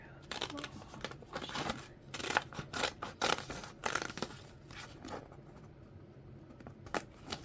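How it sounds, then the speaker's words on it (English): Scissors snip through paper for a dragon puppet base, a close run of quick crisp cuts with rustling paper handling between them, fairly quiet with no talk. "we're going to cut it. So, snip, snip."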